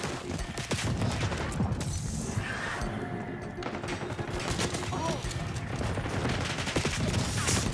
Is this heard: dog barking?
no